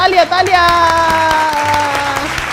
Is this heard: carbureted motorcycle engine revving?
no